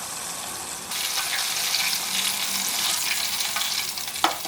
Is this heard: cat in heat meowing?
no